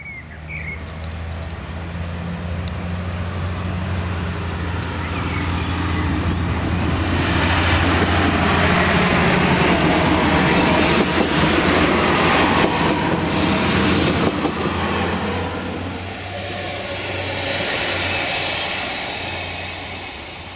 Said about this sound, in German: Hier kreuzen berg- und talwärts fahrende Züge.